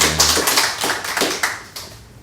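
Brief scattered clapping from a small audience at a Catholic lecture, a few sharp irregular claps tapering off over about two seconds with no talk.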